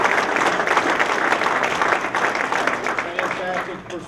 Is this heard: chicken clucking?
no